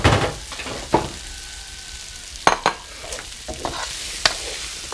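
Crispy pork with holy basil stir-fried dry in a pan sizzles steadily up close, broken by sharp irregular clanks of a spatula against the metal; no talking.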